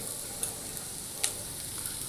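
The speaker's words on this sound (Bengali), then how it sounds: "এবার আমি পালং শাকটা উপরে নিচ করে নাড়াচাড়া" Spinach is turned over fried taro in a pan, making a soft, quiet sizzle with a couple of faint utensil scrapes.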